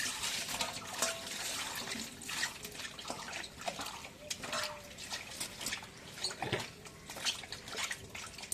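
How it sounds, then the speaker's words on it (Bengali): Fish being washed in a pot of water, with repeated splashing, sloshing and dripping at close range in an irregular rhythm. "মাছগুলো আগে ধুয়ে নিই।"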